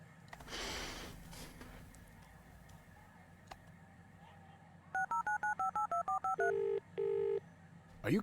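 Phone keypad tones in the video game Resonance ring out as a fast burst of short beeps followed by two longer tones, crisp and close after a few seconds of quiet game ambience and a breathy noise.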